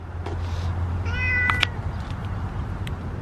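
Hydrox, a cat outdoors, gives a single short meow over a steady low hum, with a few soft clicks and rustles nearby.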